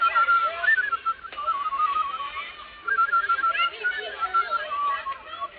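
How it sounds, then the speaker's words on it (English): A person whistles a wavering melody on and off for several seconds on a radio drama, fairly close and clear, with a brief pause midway. "I hope I can still whistle."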